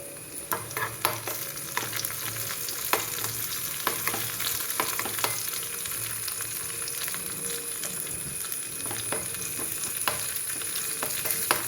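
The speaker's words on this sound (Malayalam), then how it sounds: "ഉള്ളിയും കറിവേപ്പിലും ഇട്ട് മൂപ്പിക്കാം" Onion and curry leaves fry in a pan for bitter gourd theyal. A busy close sizzle is broken by repeated stirring scrapes and clicks, with no talking.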